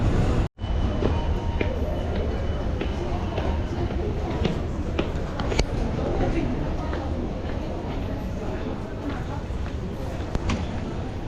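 A busy train station platform with a steady rumble of rail traffic, scattered footsteps and clattering, and people talking throughout.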